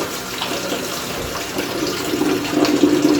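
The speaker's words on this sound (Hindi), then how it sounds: "अब मेरे ख्याल थोड़ा बहुत पानी आना शुरू हुआ है।" Water from a tap fed by a pump motor begins to run in a village home, a steady close hissing rush that grows slightly stronger toward the end.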